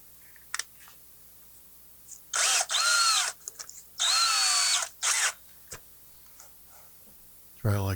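A small part from a Tascam 122mk3 cassette deck spins in a power drill chuck: loud, close whirring bursts, two long and several short, separated by pauses with light clicks.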